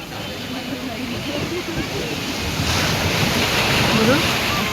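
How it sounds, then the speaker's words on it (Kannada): Sea waves wash in steadily at Calangute beach in Goa on a morning shore, a broad continuous roar of surf that swells slightly toward the end, with wind buffeting the microphone and no voices over it. "ಕಲಂಗುಡ್ ಬೀಚ್ಗೆ ಬಂದ್ವಿ. ವಾವ್, ಬೆಳಗಿನ ವೈಬ್ ತುಂಬ ಸಕ್ಕತ್ತಾಗಿದೆ."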